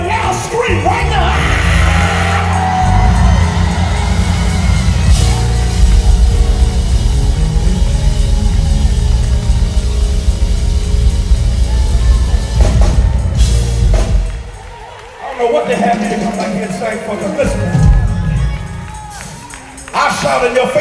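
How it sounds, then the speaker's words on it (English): A church congregation at a praise and worship service lets out a loud, sustained roar of screaming and shouting, dipping briefly near the end before swelling again, with a preacher's voice over it. "I dare you to give him a loud scream right now."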